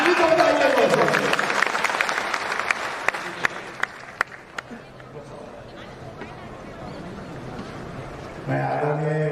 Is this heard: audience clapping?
yes